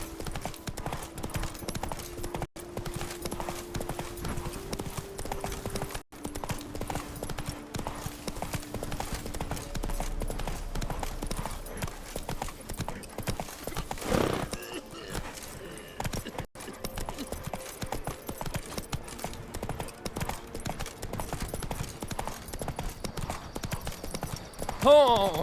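Roach, a horse in The Witcher 3, clip-clopping at a steady walking rhythm of hooves, heard under game music and ambience with speech through much of it.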